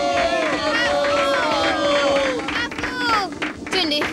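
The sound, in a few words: cartoon crowd clapping in applause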